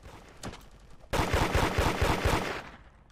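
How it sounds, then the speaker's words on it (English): Rapid automatic gunfire in the Roblox game Da Hood, a loud burst of about a dozen quick shots that starts abruptly after a quieter single shot and lasts over a second before fading. "What is shooting me?"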